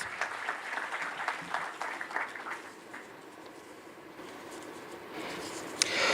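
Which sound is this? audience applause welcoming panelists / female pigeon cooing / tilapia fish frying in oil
audience applause welcoming panelists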